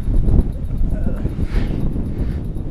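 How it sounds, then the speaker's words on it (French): Heavy wind buffets the microphone with constant low rumbling gusts, loud and close throughout. "il y a beaucoup de vent"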